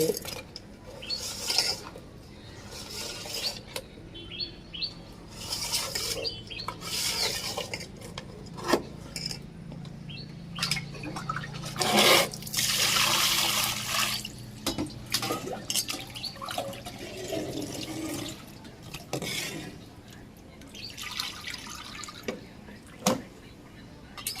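Fish being washed by hand in water with turmeric powder and salt for a spicy mackerel curry, with intermittent splashing, dripping and clinking of a vessel close by, some soft voices in the background.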